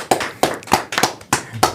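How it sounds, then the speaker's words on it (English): Loose, uneven claps ring out in spaced bursts, a handful of people applauding on a podcast set, close and fairly loud with no talk over them. "We're going to have a round of applause for freedom."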